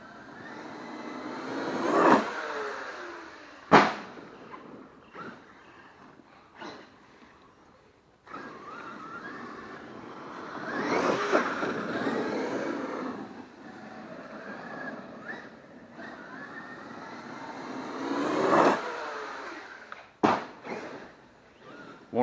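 A Traxxas X-Maxx 8S RC monster truck running on a 6S battery whines through repeated bursts of high electric-motor revving, rising and fading as it drives near and away, with sharp knocks between runs.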